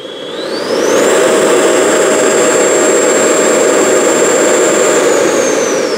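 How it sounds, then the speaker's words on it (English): An XFly Alpha 80mm electric ducted fan model jet held at full throttle, a loud sustained whooshing roar with a high whine that climbs as it spools up and then holds steady near and alone. "That has got to be one of the best sounding EDF jets we've heard in a long time."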